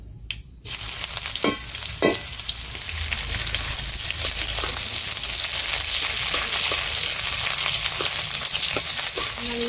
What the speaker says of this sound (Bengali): ফোড়নটা লাল হয়ে গেছে পেঁয়াজ কুচি আর রসুন কুচি দিয়ে দিচ্ছি